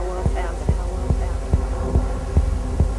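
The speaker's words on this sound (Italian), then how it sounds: "Questo è il tuo cuore che batte." A heartbeat sound effect thumps at a steady pulse of about seven beats, loud and close over a sustained electronic trance-track drone, with no voices.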